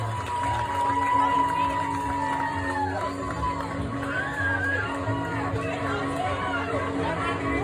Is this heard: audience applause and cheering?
yes